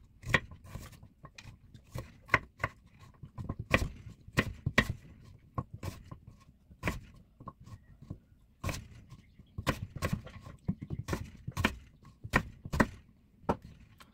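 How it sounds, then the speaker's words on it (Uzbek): A knife chops apple on a cutting board in quick, irregular taps and bursts, close and crisp against a quiet background. "Olmani ham bundan maydaroq bo'laklarda bo'lib olamiz."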